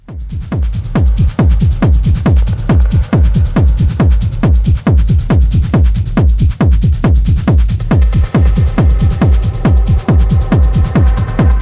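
A techno track plays with a driving, steady kick beat under layered hypnotic synths made in Ableton Operator; a brighter synth line joins toward the end.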